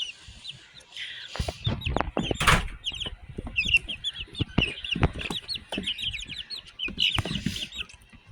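Golden Comet baby chicks peep in a busy chorus of high, rapid chirps, close and lively, mixed with soft scuffling and rustling as they move about.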